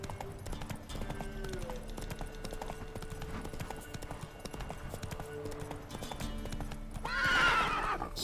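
Hooves clip-clop steadily under background sounds from The Witcher 3: Wild Hunt, then a horse lets out a loud, shrill whinny near the end.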